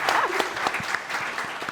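Audience at a community college tech event bursts into sustained applause, a steady dense patter of many hands clapping close and loud throughout.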